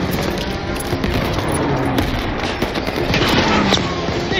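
Dense, continuous gunfire from a World War II battle in Call of Duty Vanguard, sustained bursts and rattling shots under a loud wash of combat noise with no clear gaps.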